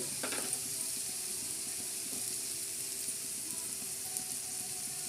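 Fish curry sizzles in a pan as it is stirred with salt and chili powder, a steady frying hiss with a few soft scrapes of the spoon near the start.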